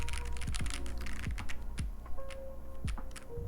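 Fast typing on a link65 mechanical keyboard, a close run of crisp clacky keystrokes with a few deeper thocks, steady and fairly quiet with no voices.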